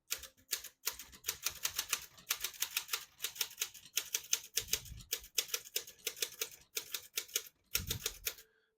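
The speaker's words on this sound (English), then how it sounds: "Beautiful typing machine." Rapid mechanical keystrokes of a 1945 Smith-Corona portable typewriter clatter in uneven bursts, with short pauses between runs and a couple of heavier thunks along the way.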